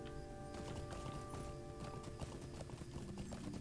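Horse hooves clip-clop at a steady trot in the video game LOTRO, a continuous rhythmic patter of fairly soft hoofbeats over a low ambient backdrop.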